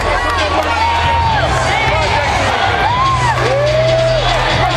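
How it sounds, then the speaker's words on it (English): Arena crowd at the 2003 Holyfield vs Toney heavyweight boxing fight reacting mildly as a fighter enters, a steady roar of distant cheering and whoops with a low hum beneath. "Hearing it, I would say, rather mildly from the crowd as he comes into view."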